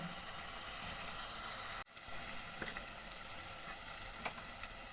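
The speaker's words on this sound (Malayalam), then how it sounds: "ഈ വെളുത്തുള്ളിൻ്റെ പച്ച കുത്തൊക്കെ ഒന്ന് വാടി കിട്ടണം എണ്ണയിൽ നല്ലോണം വാറ്റണം" Garlic fries in oil for a Kerala mango pickle, with a steady, moderately loud sizzle and hiss that dips briefly once before carrying on, joined by a few faint clicks of stirring and no speech.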